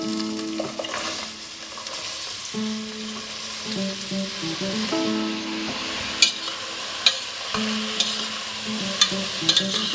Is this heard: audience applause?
no